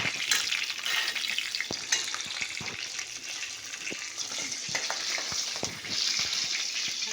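Garlic, green chili and bay leaf sizzle steadily in hot oil with mustard seeds, crackling broadband hiss broken by sharp spatula scrapes and stirring clicks, close and moderately loud with no talk.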